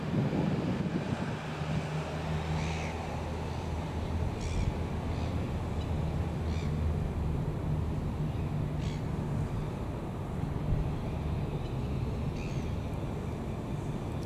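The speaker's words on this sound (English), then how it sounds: "can hear them birds squawking anyway" Birds squawk and caw now and then in the distance in Christchurch, short scattered calls over steady wind rumble and outdoor noise.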